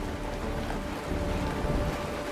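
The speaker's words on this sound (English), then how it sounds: "The rain! Raining?" Rain falling in the video game Honkai: Star Rail, a dense steady hiss of rainfall with low rumble underneath, continuous and fairly loud with no voices.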